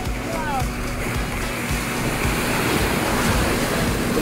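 Ocean surf rolling onto a beach at Phu Quoc, a steady wash of waves with gusty wind buffeting the microphone throughout, no voices.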